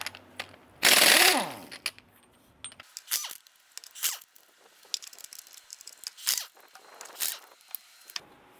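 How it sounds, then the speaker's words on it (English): A ratcheting socket wrench works lug nuts loose on a Dodge Ram 1500 wheel, opening with a loud burst of rapid clicking followed by shorter bursts of ratchet clicks and metallic clatter. "Using our 7/8 socket, let's go ahead and loosen and remove our lug nuts."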